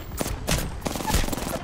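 Rapid gunfire in the video game Apex Legends, with several bursts of shots cracking in quick succession, loud and close, over a busy background of game sound.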